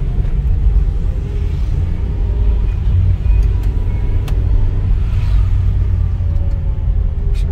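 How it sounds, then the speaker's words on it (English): Steady low rumble of a bus engine on the road, loud and continuous throughout, with faint traffic noise above and no speech. "Yeah, this is one bus."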